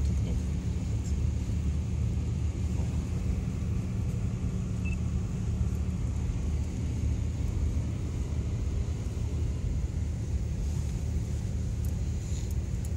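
A car rolling along a road, heard from inside as a steady low rumble and broadband road noise that holds evenly the whole time, with no talking.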